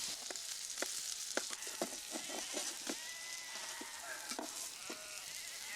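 Roast shoulder of lamb sizzling hot from the oven, a steady bright crackle and hiss with scattered sharp pops and spits throughout, close and continuous with no voices.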